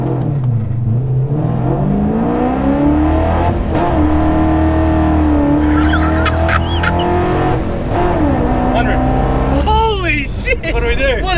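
A car engine revs hard and climbs through gears during a 0 to 100 acceleration run, loud and close, with a shift near the end and voices mixed in.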